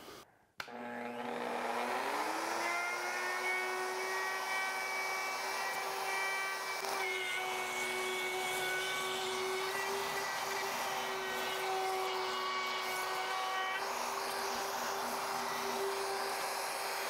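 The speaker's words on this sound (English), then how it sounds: "I'm just going to use a rabbiting bit with a collar on it to follow the edge of the plywood." A router fitted with a collared rabbeting bit spins up and cuts along a plywood edge, a loud, sustained high whine with a slight shift in pitch as it moves through the wood.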